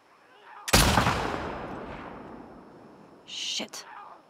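A single loud rifle shot in The Last of Us II rings out sharply and decays into a long echoing tail, followed by a couple of fainter mechanical clicks and bursts near the end.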